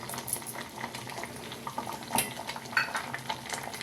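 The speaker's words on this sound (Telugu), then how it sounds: "చింతపండు గుజ్జు ఉడుకుతుంది" Soft bubbling and simmering of tamarind pulp in a pot, with faint clinks of a utensil against metal, steady and quiet.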